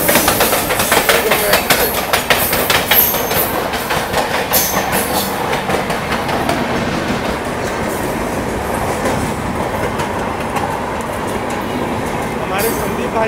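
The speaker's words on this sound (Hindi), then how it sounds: "शिवम एक्सप्रेस के साथ क्रॉसिंग" On an Indian railway, the Shivam Express is crossed by a moving North East Express train, a loud, continuous rumble of wheels and rapid clatter that stays close throughout and eases slightly toward the end.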